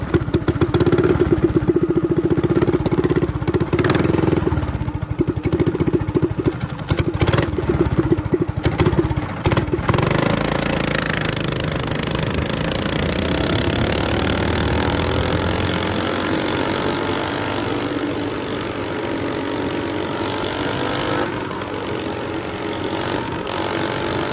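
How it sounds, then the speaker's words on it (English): A Coleman 6200 UEX mini bike engine with an aftermarket header and high-flow air filter and no muffler runs loud and raspy, with close uneven clattering revs that ease into a steady idle. "This is a Coleman 6200 UEX mini bike after the header and high flow air filter install without a muffler"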